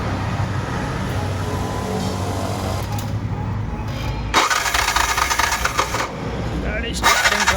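A Bajaj BS6 CNG auto rickshaw with a starting fault cranks on its self starter in steady, buzzing bursts, with a brief pause before another louder cranking run, close by and with no speech over it.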